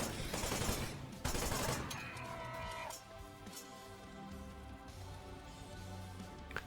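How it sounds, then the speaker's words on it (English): Machine gun bursts in the action game Wanted: Dead, dense rapid fire in the opening seconds then lighter shots over game music and effects, loud and close. "Machine gun."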